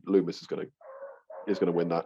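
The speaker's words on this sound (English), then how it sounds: "Sorry for the dogs if you can hear that." A dog in a home barks and yips briefly in the background during a wrestling podcast, with a short, high, tonal yelp between stretches of a man's close speech.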